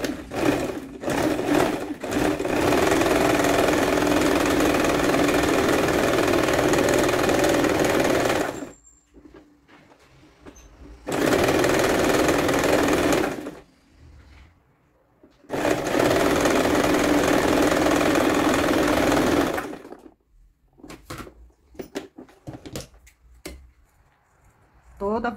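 A sewing machine running a straight stitch around the edge of a small fabric witch hat for a Blythe doll: close, fast steady whirring in long bursts with pauses between, and a voice speaking during the quiet gaps.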